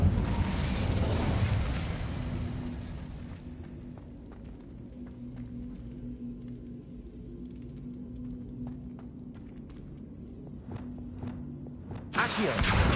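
A fire spell cast in the Hogwarts Legacy video game: a loud, broad rushing burst opens, fades over about three seconds into a low steady hum, and then a second sharp burst erupts near the end.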